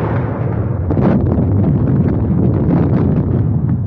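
An artillery barrage in a 1930 war comedy film sounds as a dense, unbroken rumble of blasts and roaring noise, heavy and muffled, with no talking.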